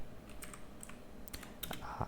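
Quick, light tapping on a computer keyboard while a support ticket message is entered, a short burst of irregular close clicks with small pauses between keystrokes, quiet and without speech.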